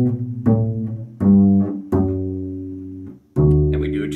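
A bass guitar plays the middle part of Frère Jacques: a phrase of sustained low notes, some short and some held longer, clear and close with no voices.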